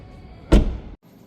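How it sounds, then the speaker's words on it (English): A rear door on a 2026 BMW X3 M50 swings shut with a single solid, heavy thunk up close, followed by a brief moment of near silence. "So let's shut this door"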